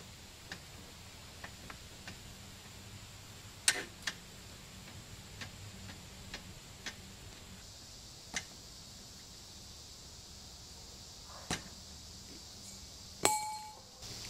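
Sections of an e-bike tire are struck to seat it evenly on the rim, giving sparse, sharp taps and clinks at irregular intervals, faint against a quiet background, with a slightly louder knock near the end.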